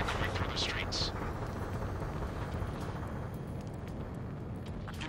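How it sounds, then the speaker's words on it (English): In the Ace Combat 7 video game, a city under martial law fills with gunfire and the roar of jets echoing through the streets. A dense, steady, loud roar holds throughout, with bursts of gunfire mixed in. "Gunfire and the roar of jets echoing through the streets."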